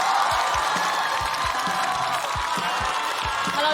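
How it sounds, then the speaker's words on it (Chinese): A studio audience at a stand-up comedy competition applauds and cheers to welcome a comedian onstage: dense, steady clapping and crowd noise fill the whole stretch at close range, with some low thumps underneath. "掌声有请"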